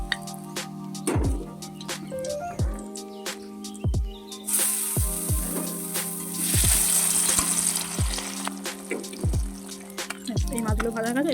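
Fried bata fish sizzling in oil in a wok while being lifted out, a continuous crackling hiss that swells louder midway, with regular knocks of a spatula against the pan and no talk.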